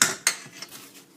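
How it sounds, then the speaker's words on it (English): A utensil clanks and scrapes against a pan while cornbread dressing is stirred, with a sharp first knock, a second strike and fading softer scrapes. "But get that all stirred up in there."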